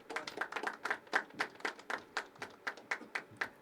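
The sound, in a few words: audience clapping softly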